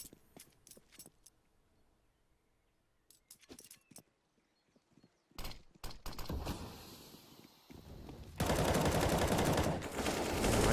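Gunfire in the CS:GO video game during a competitive match, with scattered sharp shots and bursts at first, then denser, louder sustained firing and noise building toward the end.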